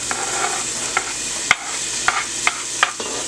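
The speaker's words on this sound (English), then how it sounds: "so to that I'm going to add my onions" Onions and scallions going into a pot of garlic frying in oil, giving a steady sizzle with a few sharp clinks of a spoon stirring against the pot, with no talking.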